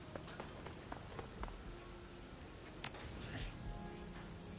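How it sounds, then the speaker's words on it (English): Steady rain in the video game Shadowrun: Hong Kong, a continuous soft patter with scattered drips, faint and even, with no talk over it. "the rain looks gorgeous in here"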